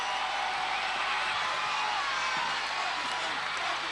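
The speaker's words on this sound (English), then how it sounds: "The arena rises to her. The flowers and the applause are hers." Broad, steady roar of an arena crowd applauding and cheering at UK Gladiators, a dense wash of clapping and voices holding at an even level throughout.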